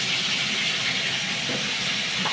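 Prawns fry in hot oil while cooking a banana flower curry, giving a steady, loud, close sizzle and hiss that runs unbroken from start to finish with no talk.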